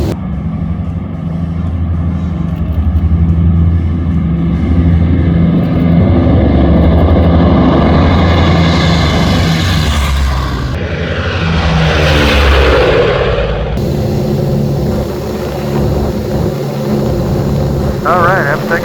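Four radial piston engines of a B-29 Superfortress bomber roar at maximum takeoff power, a loud, sustained droning rumble that swells as the aircraft accelerates down the runway, with crew voices on the intercom underneath.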